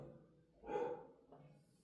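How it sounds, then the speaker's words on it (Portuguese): A neighbour's dog barks once, faint and distant in the background, a short muffled bark standing out briefly from a quiet room tone. "Peço perdão pro cachorro latindo no fundo, cachorro do vizinho."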